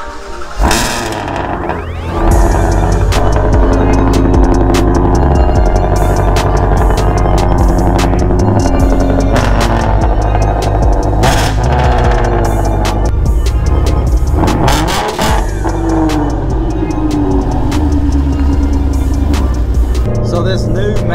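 Ford Mustang GT350 800R Fathouse build: cold start and revving, a loud, continuous, rumbling V8 with repeated rev swells and sharp blips throughout.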